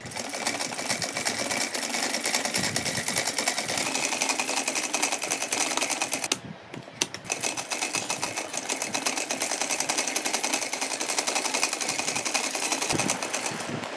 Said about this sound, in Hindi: देखिए, हमने लेस के दोनों साइड सिलाई लगाई है।